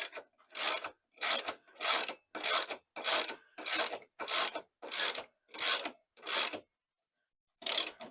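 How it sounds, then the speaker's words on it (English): Wrenches turning on the fork of a Boom Vader 125 Honda Grom clone motorcycle give a ratchet clicking sound in about ten regular bursts, then a short pause and one more burst, close and alone. "Turn our wrenches in the appropriate direction."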